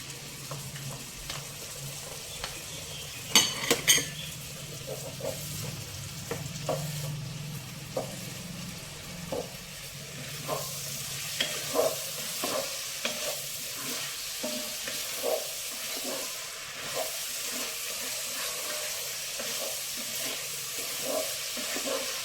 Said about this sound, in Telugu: ఈ టమాటా ప్యూరీ కొంచెం వేగాలండి.